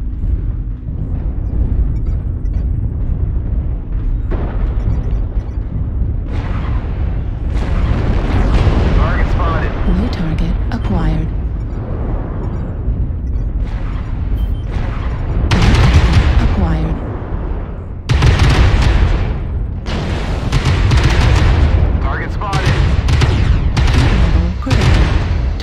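An artillery strike in Mechwarrior Online, with booming explosions and heavy blasts crashing over the deep rumble of a mech in battle. A synthetic voice calls out announcements between the impacts.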